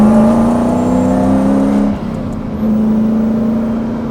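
A supercharged V8 drift truck drives past, its engine droning loud and steady with a tonal whine, dipping briefly mid-way as the throttle lifts before settling back into a sustained pull; no voices.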